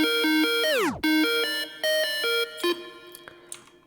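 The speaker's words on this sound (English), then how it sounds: "This lead right before the drop has a very cool tape stop effect," A synth lead in a future bass track plays a short bright melodic phrase, then its pitch sweeps sharply down to a stop as a tape stop effect, before further tones resume and fade into brief clicks.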